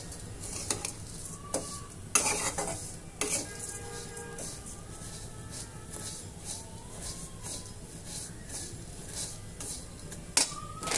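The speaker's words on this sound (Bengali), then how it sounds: "এই যে হালকা আবার একটু ভেজে নিচ্ছি।" Food frying lightly in ghee while being stirred, a soft sizzle under intermittent scrapes and clinks of a utensil on the pan, with a few sharper knocks and no talk.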